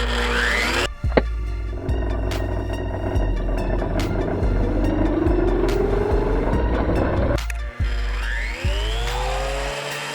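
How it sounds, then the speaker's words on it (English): A Lotus-brand thickness planer runs idle with no wood feeding through, giving a loud, steady motor whine and rumble that spins up at the start and briefly dips near the end. "So we're going to do a test with this thickness planer"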